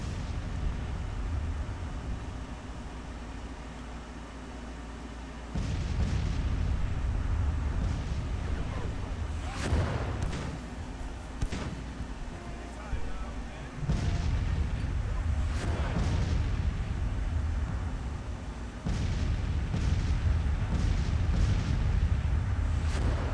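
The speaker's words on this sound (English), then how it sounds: "Maybe we'll catch him with some artillery fire." Artillery fire in the Civil War strategy game Grand Tactician: The Civil War: a low rumbling battle bed with several heavy booming cannon shots spaced through, continuous and fairly loud.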